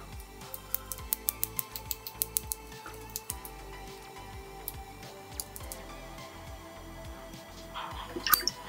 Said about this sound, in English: And give it a good old stir.